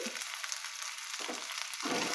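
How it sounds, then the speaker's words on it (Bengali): Carrots, potatoes and other chopped vegetables fry in a pan with a steady close hiss that holds throughout and swells slightly near the end, with no talking. "এরপরে সবজিগুলোকে একটু ভাজা ভাজা করবো"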